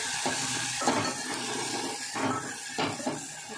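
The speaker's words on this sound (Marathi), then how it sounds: "चांगलं परतून घेते याला." Onion, garlic and garam masala are sautéed in a pan while lentils wait for the pot, producing a continuous sizzle with repeated scraping strokes of a spoon, near and fairly loud.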